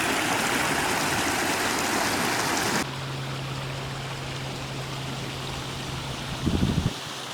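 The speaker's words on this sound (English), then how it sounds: "It all trickles down here" Warm water from the Captive Geyser in Soda Springs, Idaho trickles and rushes in a steady wash, which abruptly drops away to a quieter flow with a low hum before a short burst of splashing.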